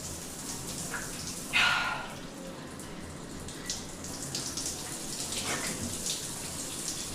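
Water runs from a tap in a newly built bathroom, a steady hissing flow with a louder splash near the start and small drips and knocks throughout.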